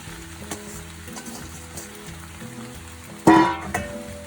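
Carrot, beans, tofu and cooked rice sizzle steadily in a hot pan, with a louder burst of frying around the three-second mark as food hits the pan or gets stirred.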